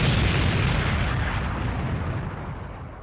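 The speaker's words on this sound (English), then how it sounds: "you just hear the chain link fence. It sounded like an explosion." A chain link fence around a cage-match enclosure rattles with a loud, booming, explosion-like crash that starts at full force and slowly fades over about three seconds, with no talking.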